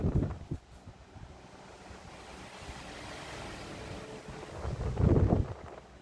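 Sanyo cast iron pedestal fan running on speed 3, a steady broadband whoosh of moving air with a brief louder rustle near the start and a stronger gusting swell toward the end, close to the microphone.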